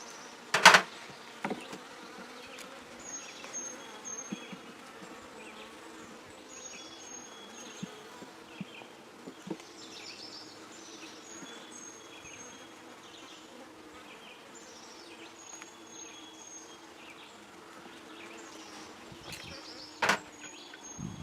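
Honey bees hum steadily around an opened hive frame. The buzzing is continuous and moderately close, with occasional sharp clicks and taps over it.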